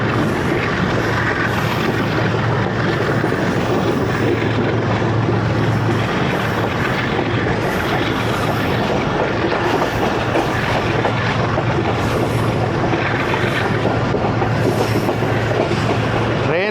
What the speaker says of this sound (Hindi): दोस्तों कोट लालू से चल गई है ट्रेन